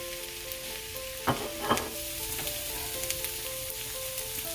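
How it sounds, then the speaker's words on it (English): Chopped, salted zucchini hitting a fairly dry pan sizzles steadily up close, with two sharper bursts early on over a constant hiss and a faint tonal hum behind it. "Let's put our chopped zucchini."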